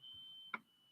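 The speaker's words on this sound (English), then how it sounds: "Little beeps." Little electronic beeps: a thin steady high tone holds through the moment, broken by one short bright chirp near the middle, faint and alone with no talk.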